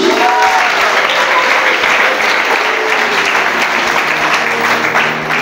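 A church congregation breaks into loud, sustained applause during a sermon, dense clapping filling the whole stretch without pause.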